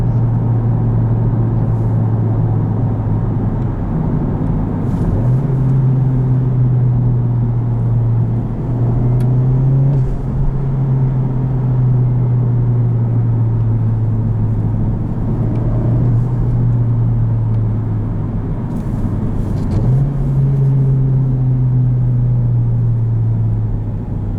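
Engine of a 2019 Honda Civic Type R with automatic rev matching, a steady loud drone from inside the cabin with a few quick rev blips as gears change, under continuous road rumble.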